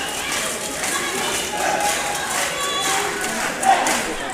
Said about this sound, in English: With a very enthusiastic crowd as well.